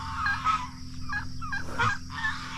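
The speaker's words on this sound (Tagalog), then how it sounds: "ang daming maingay dito at may naligaw na mga pabo" Several stray turkeys gobble in bursts of warbling calls, fairly close, with a low steady hum underneath.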